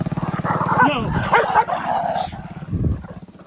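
A couple of dogs yipping and barking at each other outdoors in a Philippine village, close and excited, with a voice talking over them.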